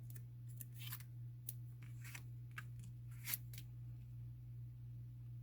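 Scissors trimming craft strips to fit around a frame on a shaker card, a few quiet snips and rustles spread irregularly over a steady low hum, faint and close.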